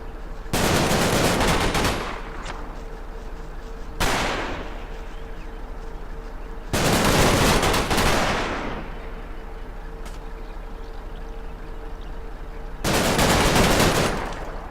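Several long bursts of machine-gun suppressing fire from the war game Combat Mission, set in the Market Garden campaign, each rattling for one to two seconds and separated by quieter gaps.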